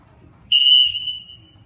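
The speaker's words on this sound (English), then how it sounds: "It needs to be crisp, stern whistle, and a confident whistle." A single loud, sharp referee whistle blast, shrill and steady for about half a second before trailing off, sounding alone in a quiet room.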